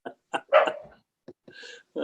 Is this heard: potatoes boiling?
no